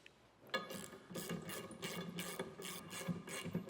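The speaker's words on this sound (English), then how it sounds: "we're just going to go ahead and use the bolts and a 19 millimeter wrench, and we're just going to run each bolt down inside the 1/2-inch holes" A 19 mm wrench ratchets bolts down into half-inch holes for an underbed gooseneck trailer hitch, giving steady rapid clicking in short repeated runs, faint and close with no talking.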